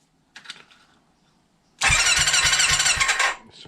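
A Kawasaki Zephyr 750 engine cranks over with the throttle held open for a compression test, a loud steady churning run of about a second and a half following a faint clatter, with no one speaking.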